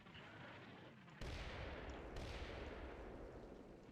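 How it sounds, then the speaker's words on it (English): Artillery shells landing nearby in a tactical war video game, a heavy boom cutting in sharply followed by another blast and a sustained rumbling wash of explosions and gunfire. "So the artillery is landing around here."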